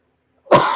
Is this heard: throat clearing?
yes